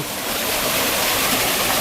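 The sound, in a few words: Chan Ta Thian waterfall stream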